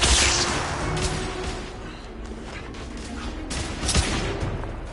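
Sustained volley of suppressive gunfire in the Victorian-era shooter The Order 1886, dense crackling shots and booming reports rolling continuously with brief louder bursts and faint voices underneath.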